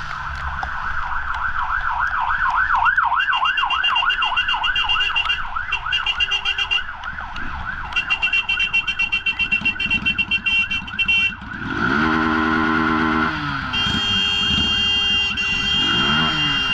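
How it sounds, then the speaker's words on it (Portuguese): An ambulance siren wails in city traffic, first a fast warbling tone, then steady cycling wails alongside passing engine noise, loud and close throughout. "Prioridade é ambulância aí, mano."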